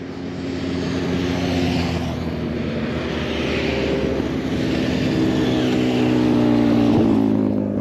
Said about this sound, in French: Ça roule les motos ici.